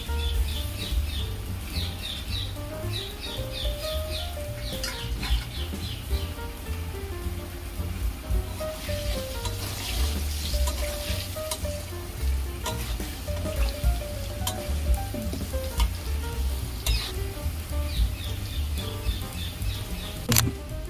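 Potatoes with salt and turmeric fry in hot oil, a steady dense sizzle with crackling running throughout, alongside a faint melodic tone and occasional sharp clicks.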